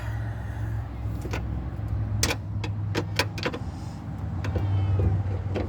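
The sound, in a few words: cat near a car's engine bay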